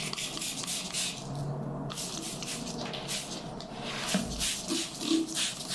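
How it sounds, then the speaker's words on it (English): Insecticidal soap mists from a spray bottle onto a houseplant in several short hissing bursts, close and moderately loud, with faint handling rubs and scrapes between sprays. "I'm running a little bit low on this insecticidal soap, so we're just gonna kind of spray it down overall"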